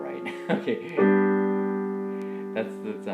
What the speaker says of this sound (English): That's the sound of the Neapolitan.